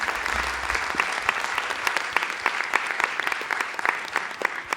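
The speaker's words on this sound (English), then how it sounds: "Now we can clap, yes." Audience applause at the SANGAM 2016 gathering of an online Indian music academy: dense, steady clapping from a large crowd that fills the whole stretch at an even level, with no speech over it.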